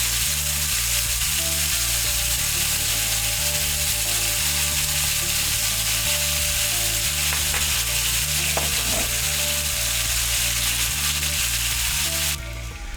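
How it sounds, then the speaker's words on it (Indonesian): Soy sauce and fish sauce sizzle steadily in a frying pan with sautéed coriander stems and roots, a loud, continuous frying hiss with occasional stirring scrapes, with no talking. "tambahkan 3 sendok makan kecap asin dan 1 sendok makan kecap ikan ke dalam panci penggorengan yang berisi batang daun ketumbar"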